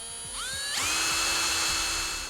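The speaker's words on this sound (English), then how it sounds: "We'll pre-drill our hole," A power drill pre-drills a hole through a plastic back cover inside a vehicle, its motor whining up in pitch as it spins up and then holding a steady high whir for under two seconds.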